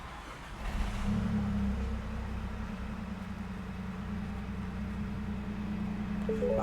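A 2021 MINI Cooper engine starts and idles with a steady, low rumble close by without a break, with a slight swell in loudness near the start.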